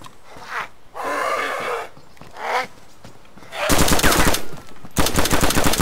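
Gunshots in the zombie survival game DayZ Standalone, with loud rapid reports in two close bursts following a stretch of rumbling in-game noise.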